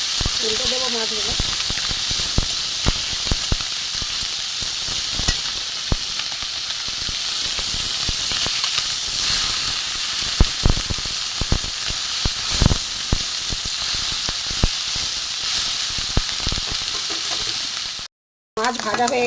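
Small chuno fish, mourala, frying in hot oil after being flipped, a steady loud sizzle and hiss with crackling pops throughout, briefly cutting out near the end.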